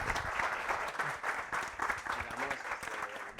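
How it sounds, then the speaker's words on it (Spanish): Applause for a speaker at a tech talk, a steady wash of audience clapping in a room with faint voices murmuring underneath. "un aplauso."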